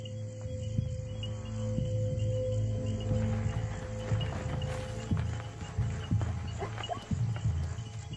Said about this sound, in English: The sound of the herd draws one of the lionesses closer.